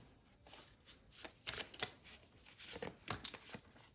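Tarot cards being drawn and handled from a deck, a quiet run of soft papery shuffles, slides and taps in uneven bursts, close by and with no talking.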